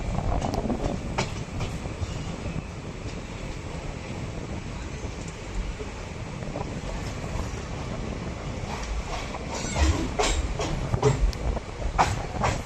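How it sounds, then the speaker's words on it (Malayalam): A passenger train on the Konkan Railway arriving at Thokur station, heard from on board as a steady broad rumble with clickety-clack wheel beats and wind buffeting, growing louder and more rattly toward the end, with no talk. "തൊക്കൂർ റെയിൽവേ സ്റ്റേഷനിലേക്ക് ഇതാ ട്രെയിൻ എത്തിക്കൊണ്ടിരിക്കുകയാണ്"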